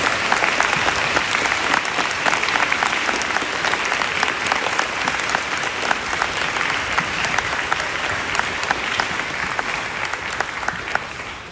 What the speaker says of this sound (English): please give a round of applause to these individuals who've enabled us to be here today